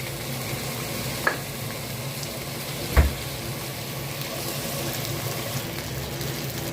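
Eggplant sautéing in oil with salt for a spicy tamarind curry, a steady close sizzle and fry with two brief scraping stirs of a utensil in the pan.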